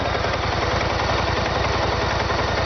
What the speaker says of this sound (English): I've seen other clips on YouTube of this bike running, and it all sounds the same